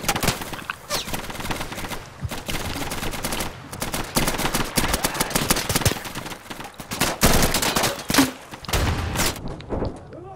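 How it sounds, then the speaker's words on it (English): A grenade launcher fires at point-blank range in the tactical shooter Insurgency, within a loud, chaotic stretch of rapid gunfire bursts and sharp explosive cracks that continues without letup. "I just shot a grenade launcher like point blank."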